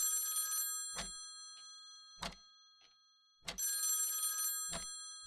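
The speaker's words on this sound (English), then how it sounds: "I woke with a start to the ringing of the phone." An old-style telephone bell rings in a quiet room, loud ringing bursts separated by silence with a few soft knocks and thumps between them.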